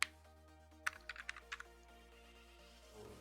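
A house number is typed on a computer keyboard as a quick cluster of soft keystrokes, one sharp press then several taps, quiet over low background hum.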